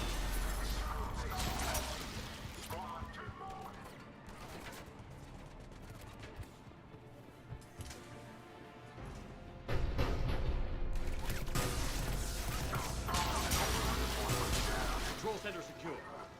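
Heavy cannon fire and explosions from a Cerberus cruiser attack in the Mass Effect 3 video game, a dense sustained barrage with a loud surge of blasts midway, mixed with game voices talking.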